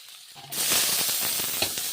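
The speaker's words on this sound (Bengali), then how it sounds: "লাল লাল করে ভেজে নিলাম কাঁচা কলাগুলো" Raw green banana pieces frying in hot oil, a bright crackling sizzle that starts abruptly and continues close and steady with small pops.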